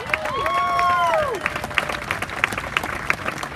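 A crowd applauds loudly with scattered clapping at a Crossmen drum corps Hall of Fame induction and alumni performance, while a couple of voices whoop and cheer in rising calls at the start before the clapping thins out.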